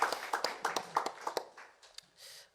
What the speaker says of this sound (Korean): 다시 한번 격려의 박수 하도록 하겠습니다